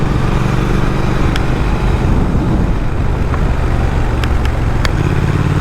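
A Triumph Speed Twin motorcycle being ridden, its engine a loud continuous drone mixed with heavy wind rush. It holds steady throughout, with a few faint ticks.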